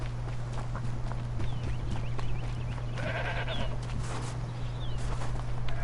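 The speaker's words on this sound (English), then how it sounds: "That's a goat." Goats bleating in the snowy wilds of Horizon Zero Dawn's Frozen Wilds, several short calls scattered over steady game ambience with a constant low hum and soft footsteps.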